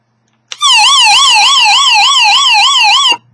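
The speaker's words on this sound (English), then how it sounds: "the SOS and the alarm, the siren, was not a function in the little guy" A loud electronic siren from an Eton FR500 emergency radio wails in a fast, regular up-and-down warble, starting abruptly and cutting off after a few seconds, close and alone.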